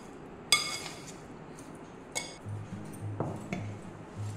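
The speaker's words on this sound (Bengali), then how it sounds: "এটা এরকম চামচের সাহায্যে মেশাবেন" A spoon stirs homemade lemon pickle, giving a few sparse, light clinks and scrapes against the container, spaced apart over a quiet background.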